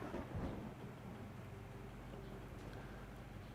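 Low rumbling thunder rolls through a rainy storm on a desert planet in Empyrion: Galactic Survival, faint and continuous, with a heavier burst near the start.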